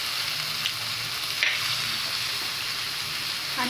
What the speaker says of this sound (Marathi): आणि मस्त व्यवस्थित ती परतून घ्यायचे, व्यवस्थित परतून घ्यायचं आहे सगळं आपल्याला।